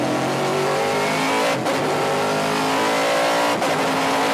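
A race car accelerates hard in first gear on a track, its engine roaring loud and steady with rising pitch and a hint of rear tire squeal, with two brief dips where it shifts or lifts.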